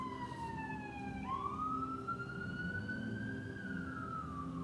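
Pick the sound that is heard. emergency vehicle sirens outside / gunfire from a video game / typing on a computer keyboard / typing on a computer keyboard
emergency vehicle sirens outside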